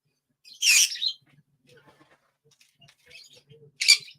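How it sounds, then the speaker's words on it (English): Pet bird chirping in bursts: a loud shrill chirp near the start, faint scattered calls and rustles in between, then another sharp close chirp at the end. "Yeah, crazy bird."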